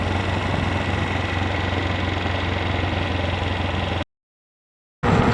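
A vehicle engine idles in neutral with a steady, loud, low rumble and vibration, running unbroken for about four seconds before a brief total silence and then resuming.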